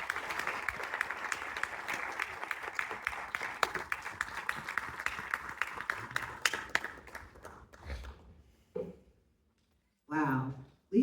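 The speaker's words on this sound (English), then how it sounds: "Again, one more applause, y'all." Audience applause at a reentry program event, a dense clapping crowd that sustains for several seconds, then thins out and stops, followed by brief bursts of speech in a quieter room.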